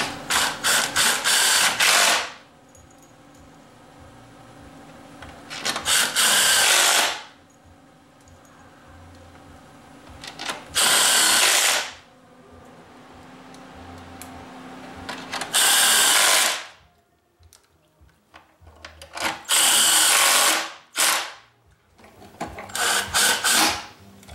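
A ratchet tightening bolts on a 2002 PT Cruiser engine during valve cover and oxygen sensor work makes loud, close bursts of rapid clicking, several runs separated by short pauses.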